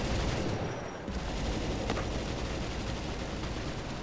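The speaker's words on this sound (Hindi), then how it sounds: "शॉटगन से मारते हैं" Shotgun fire in a World War 2 battleground video game, heard as a dense, continuous roar of gunfire and battle noise with a brief dip near the start and a sharper crack midway.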